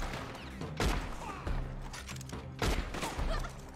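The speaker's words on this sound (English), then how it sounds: "Damn, there's a lot of shooting" Gunfire in the video game Red Dead Online, a dense fusillade of overlapping shots with heavy thumping bursts, fairly loud and continuous over a busy game soundscape.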